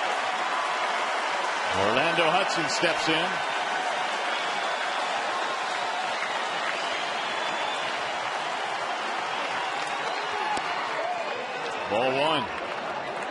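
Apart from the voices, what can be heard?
baseball stadium crowd cheering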